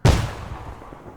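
A single loud gunshot from a soldier firing in the military video game Arma 3, a sharp close crack at the start that decays into a rumbling echo tail, with no talking.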